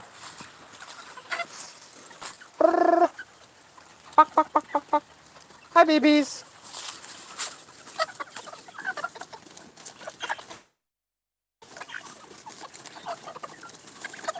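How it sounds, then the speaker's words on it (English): Chickens clucking and squawking nearby in short bursts and rapid runs, with a person briefly speaking softly to them. "Walk you over to my chickens."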